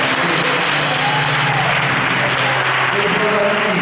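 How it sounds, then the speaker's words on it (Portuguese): A church congregation applauds during a Sunday morning service sermon, a steady wash of clapping with a voice speaking over it throughout. "Eu queria que você aplaudisse a pessoa."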